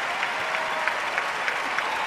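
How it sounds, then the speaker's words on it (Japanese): A figure skating arena crowd breaks into big, sustained applause as a skater finishes a fast closing spin, dense clapping filling the rink at steady loudness. "目を覚ましたように大きな拍手、"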